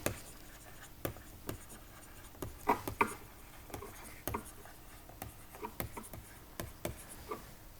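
A pen writes numbers by hand on paper, close and quiet, with short scratchy strokes and distinct taps spaced irregularly, roughly one or two per second.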